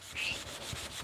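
A short stretch of hand sanding with 1000 grit sandpaper, a soft close rasping rub in quick back-and-forth strokes, with no one talking.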